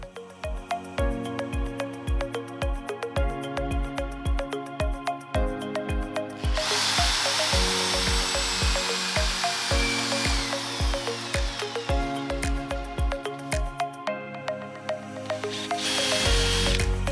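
A power drill bores screw pilot holes into wooden slats for a room divider. Its motor whirs steadily and loudly at close range with repeated rhythmic pulses, and a harsher, brighter grinding stretch comes partway through.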